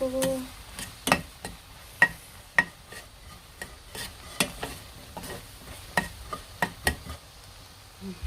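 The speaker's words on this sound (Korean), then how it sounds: "메르치를 지금 볶고 있습니다." Small dried anchovies are stir-fried in a pan: a faint, steady sizzle with irregular scraping clicks as a utensil pushes them around.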